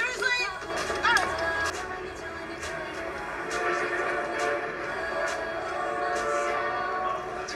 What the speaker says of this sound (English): It's one really long train.